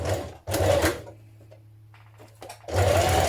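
Sewing machine stitching the binding on a Vogue 9311 dress neckline: two quick bursts of whirring stitches, a quiet pause with a faint hum, then a third run starting up close by.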